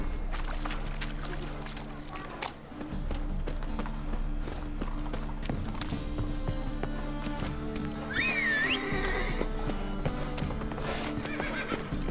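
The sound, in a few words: Geralt's horse Roach galloping and neighing in video game Witcher 3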